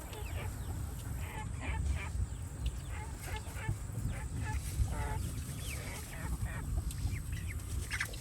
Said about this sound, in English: We just down here hanging out with the chickens.